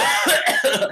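A single person gives a sharp cough, repeated in quick bursts over about a second, close and loud, demonstrating coughing while standing in a socially distanced line during a training session.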